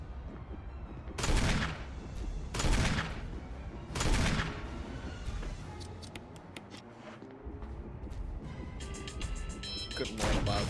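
Self-defense gun fired in a Resident Evil video game: three loud, evenly spaced shots ring out close, with another blast at the end, over a busy background of game sounds.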